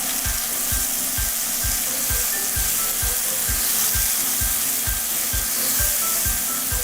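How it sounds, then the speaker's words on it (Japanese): Peeled, coarsely chopped tomatoes sizzle steadily as they are stir-fried in a pan for a beef and tomato stir-fry, with a continuous loud hiss and a regular rhythmic scraping of the utensil. "トマトから水分が出ますので、その水分で炒めていきます"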